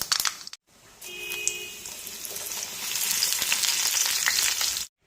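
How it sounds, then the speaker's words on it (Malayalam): Mustard seeds and curry leaves sizzle in hot coconut oil, a loud continuous hiss that swells after a brief drop and keeps crackling steadily until it cuts off near the end. "എണ്ണ ചൂടായിട്ടുണ്ട്. ഇതിലേക്ക് കടുകിട്ട് കൊടുക്കാം. ഒപ്പം കറിവേപ്പിലയും."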